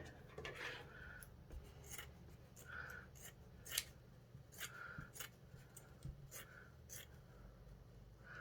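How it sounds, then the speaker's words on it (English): Scissors cut through polyester abaca fabric used for hat making. Faint, crisp snips repeat roughly once a second in a quiet room, with soft rustling between the cuts. "So I'm going to cut as much as I need."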